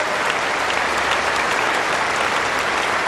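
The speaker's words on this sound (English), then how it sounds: "Let's give them a round of applause" Dense, steady applause from a crowd at a 2006 Gold Coast tennis tournament ceremony, loud and even from start to finish with no break.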